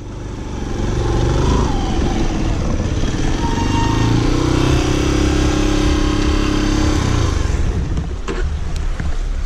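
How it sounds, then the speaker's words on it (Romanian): Enduro motorcycle engine idling on a trail, a close, loud, steady low rumble with a slight rise and fall in pitch midway, easing off toward the end. "lasă motorul aici în belip"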